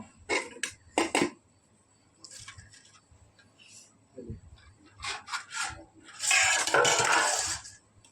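Fish curry made with magur catfish being served onto dishes in a home kitchen: several short bursts of spoon and plate clatter with scraping and rubbing, close and moderately loud, separated by quiet gaps, with a brief voice partway through.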